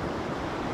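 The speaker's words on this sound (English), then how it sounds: "This is just really fast moving water around some really dangerous rock." Fast-moving river rapids rushing around dangerous rocks during a level 5 whitewater rafting run, heard as a steady, loud broadband roar of churning water with no pauses or voices.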